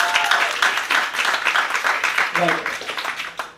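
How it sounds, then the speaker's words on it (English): A comedy club audience claps in a short burst of applause, uneven and moderately close, with voices speaking over it and laughter mixed in. "good round of applause"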